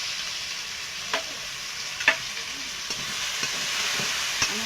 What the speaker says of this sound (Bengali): আমি এটা একটু ভেজে নেব।